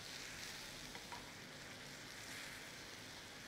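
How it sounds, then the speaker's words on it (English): Masala for khatte baingan fries in a pan while being stirred, a faint, steady background sizzle and hiss with soft stirring movement, with no talking. "Keep stirring for 5 minutes."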